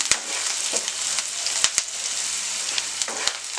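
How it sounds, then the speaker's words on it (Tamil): Onions and dried red chilies sautéing in a pan, a steady close sizzle broken by occasional sharp spatula taps and scrapes. "இது எல்லாத்தையும் வதங்கட்டும்"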